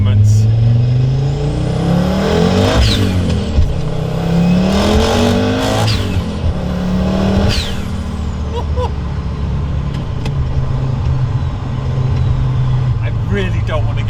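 A 550 hp Audi Sport Quattro turbo car accelerating hard, its loud close engine note rising in pitch through several gear changes with turbo whooshes between shifts, then settling into a steady drone.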